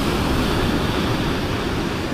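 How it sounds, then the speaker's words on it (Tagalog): Rough sea surging onto the shore at Dinahican, Infanta, Quezon during a typhoon, with waves of two to three meters making a loud, continuous roar and wind, with no voices. "Ayan ang dagat mga amigo."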